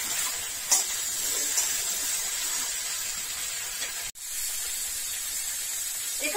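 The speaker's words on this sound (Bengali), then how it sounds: "রাখা টাটকা সবজিগুলো আমি তেলেতে একবারে দিয়ে দিচ্ছি" Fresh vegetables tossed into hot oil for a fish curry, giving a loud, continuous sizzling hiss held close up, with one short break near the end.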